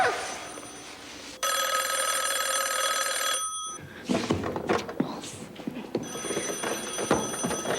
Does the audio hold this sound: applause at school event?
no